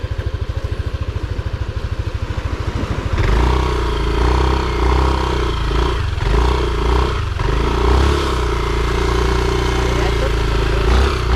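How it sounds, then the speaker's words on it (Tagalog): A motorcycle engine putters at idle, then roars louder and steadier as the bike rides along, wind and road noise rushing throughout. "So nagmumotor-motor lang kami."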